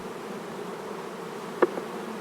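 Honeybees buzz steadily in an open hive, a dense close drone with a brief sharper buzz near the end and no talking.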